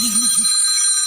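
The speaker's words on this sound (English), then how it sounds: "And that is my phone going off." A mobile phone rings with a steady electronic trill over a soft warbling tone, close and loud, with no voices.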